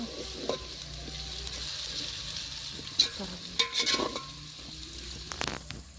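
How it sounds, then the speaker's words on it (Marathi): Masala and tomatoes roasting in a pan for chicken biryani, a steady close sizzle broken by scraping stirs and a few louder clatters of the spoon against the pan, no voices. "आपण टाकलेलं सगळा मसाला टमाटर वगैरे सगळं व्यवस्थित भाजले"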